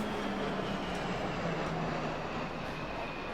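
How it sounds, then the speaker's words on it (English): RAF Hawk T1 fast jets roar overhead at an airshow, a steady, broad, loud engine rush that holds for several seconds without voices. "Stand by now for the first of the fast jets. Here they come. These are the Hawk T1s."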